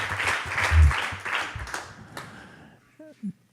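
A temple audience claps to welcome a speaker to a Srimad Bhagavatam class. Loud, close applause fills the first two seconds and then fades, followed by a brief faint tone.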